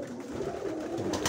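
Pigeons in their home loft cooing softly and continuously, a low murmuring burble close by with no voices over it.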